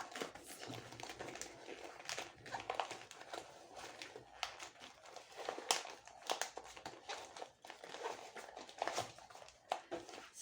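A fabric zippered toiletry bag being handled, folded and pulled over its zipper, with continuous close crinkling and rustling scrapes at a fairly quiet level and no clear talk.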